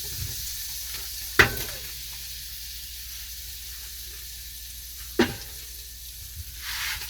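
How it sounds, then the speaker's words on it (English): Butter sizzles softly and steadily in the bottom of a soup pot over turned-down heat, with two sharp clunks of utensils against the pot. "So let's get started and put some butter in the bottom"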